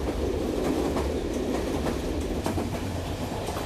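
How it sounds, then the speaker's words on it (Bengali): A train running steadily on the tracks, a loud continuous rumble with rhythmic clicks of the wheels, heard from close by. "দুপাশে অন্ধকার কাটতে কাটতে ট্রেনটা ছুটে চলেছে একেবারে যান্ত্রিক গতিতে"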